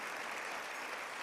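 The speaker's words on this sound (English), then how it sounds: "can we please just another round of applause for Amatula, Nate, and Tite for sharing their experiences." A crowd at an annual Lifeworks celebration applauds speakers who shared their experiences, producing a brief, steady, even wash of many hands clapping with no talk over it.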